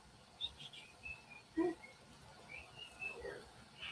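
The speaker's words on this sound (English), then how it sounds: "Can you hear my birds?" Scattered soft chirps and tweets from small pet birds indoors, sparse and fairly quiet, with one brief louder note in the middle.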